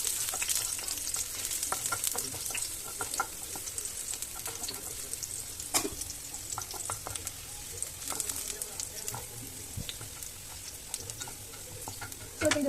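Vegetables stirred and frying in a pan while making a veg lasagna, with a steady sizzle and scattered scraping clicks of a spoon throughout, no talking.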